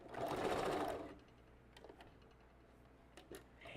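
A sewing machine runs in a short burst while backstitching a closure onto a custom glueless wig cap, loud and close for about a second, then stops, leaving faint handling clicks and quiet room tone.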